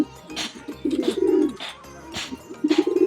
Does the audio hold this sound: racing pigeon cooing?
yes